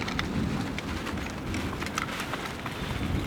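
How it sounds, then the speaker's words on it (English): Thunder rumbling through a hailstorm in the Wind River Range, a continuous low roar blended with steady rain and hail patter, with no voices. "Listen to the thunder."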